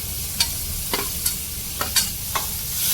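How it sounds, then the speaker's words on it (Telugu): Mint and coriander stir-fried with onions for spicy boti fry, a steady sizzle broken by several distinct spatula scrapes and taps against the pan, close and fairly loud, no speech. "ఇప్పుడు పచ్చి ఇది వేసుకోవాలి పుదీనా కొత్తిమీర వేసుకోవాలి దీన్ని కూడా బాగా ఫ్రై చేసుకోవాలి"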